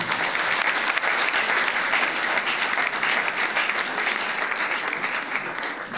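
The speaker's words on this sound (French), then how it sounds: "Acclamez pour le gouverneur." A hall audience applauds for a governor at a public event in the DR Congo, a dense, steady wash of many hands clapping at once that holds loud and even throughout, with no voices standing out.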